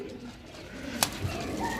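Domestic pigeons cooing in a loft, a soft low coo or two, close but quiet over a faint background hum.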